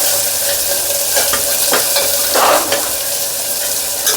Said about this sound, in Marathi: सगळा जो हा मसाला आहे तो छान तुपामध्ये असा परतवून घ्यायचा